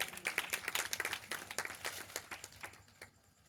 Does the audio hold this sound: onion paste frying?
no